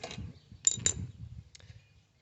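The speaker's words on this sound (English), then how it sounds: "you're gonna get your spark plug socket, or a deep one, and lefty-loosey" Ratcheting clicks from a socket wrench loosening the spark plug on a Craftsman platinum lawnmower, two sharp close bursts and a fainter one over low mechanical rumble.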